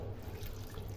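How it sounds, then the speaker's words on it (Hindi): Half a cup of water is poured onto jaggery, a steady, dense splashing rush of liquid lasting about a second with no talking. "तो यहाँ पे हम लोग जगरी लें, इसमें डालेंगे हाफ कप पानी।"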